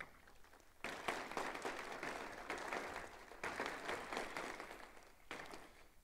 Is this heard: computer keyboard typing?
no